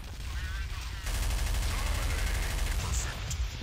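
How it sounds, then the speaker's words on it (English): Sustained automatic machine gun fire rattles in Counter-Strike: Source, a dense rapid burst starting after a brief lead-in and continuing to the end, with a voice speaking over it. "Ooh, that big machine gun."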